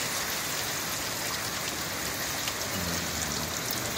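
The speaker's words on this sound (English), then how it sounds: "The skies have opened up in Toronto here." Heavy rain in Toronto pours steadily onto a patio deck and rain barrel nearby, a dense, continuous hiss with no talking.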